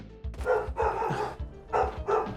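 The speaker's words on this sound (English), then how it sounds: "I clapped and it upset the dogs." Dogs in the video game Skyrim bark in quick, close bursts, several sharp woofs in uneven rhythm, loud and alone without talk over them.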